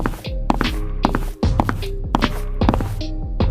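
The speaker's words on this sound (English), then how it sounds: "Slow footsteps, deliberate footsteps." Slow, deliberate footsteps among graves late at night, a steady run of heavy, close thuds repeating at an even, measured pace with no voices.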